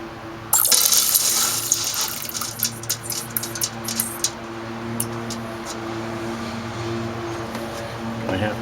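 Molten silver shot pours into water, giving a gushing, bubbling splash followed by scattered small pattering drops.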